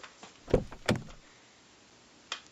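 Fire engine doors on Engine 11 at a fire station, two sharp thumping clunks in quick succession followed by a quieter click, with no talking.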